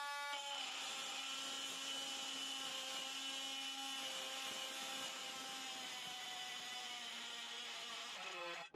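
An Einhell Varrito cordless multi-tool fitted with a metal blade cuts aluminium, giving a continuous high, buzzing whine that holds steady for several seconds before cutting off abruptly.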